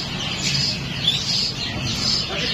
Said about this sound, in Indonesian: Di sini ada jalak suren gacorannya, tinggal satu ekor untuk jalak suren gacorannya.